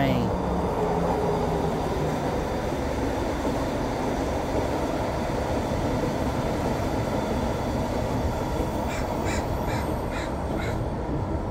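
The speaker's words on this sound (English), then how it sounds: "Oh, here's another train." A Vancouver SkyTrain passes in a steady, continuous rumble that fills the whole stretch, with crows cawing briefly near the end.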